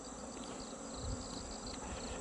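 Honeybees buzzing densely and steadily at a hive on a farm, a continuous close swarm drone with no voices.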